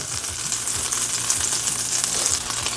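Butter and avocado oil sizzle in a pan that is just heating up for pork medallions. The frying hiss is steady and continuous, close and fairly loud, and no one speaks.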